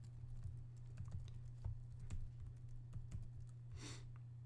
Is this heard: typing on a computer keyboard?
yes